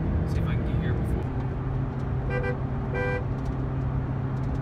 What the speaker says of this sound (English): It says honk if you love Jesus